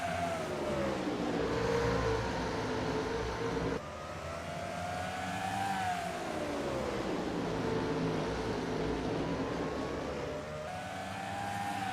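Race cars at Anderson Speedway roar together as the field heads to the green flag for a WRLA Hoosier Summer Tour race, a loud sustained engine drone with rising and falling revs and no voices.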